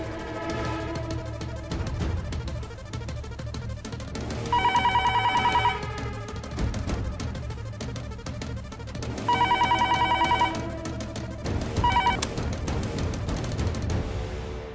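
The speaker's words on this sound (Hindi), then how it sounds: "मैं फोन करता हूँ।" A telephone rings in repeated bursts while a call is placed to a hospital patient, the ring cycles sitting over a steady background of music and room noise, fairly loud and clear.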